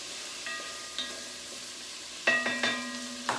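Onions fry in a pot for chili with a soft, steady sizzle, joined by sharp metallic clinks and scrapes of a utensil against the pot.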